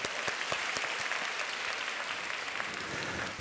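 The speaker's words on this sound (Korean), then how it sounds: "박수 한번 쳐줄까요?" A church congregation claps together in sustained applause, a dense, even wash of many hands heard from a distance at low volume, with no talking over it.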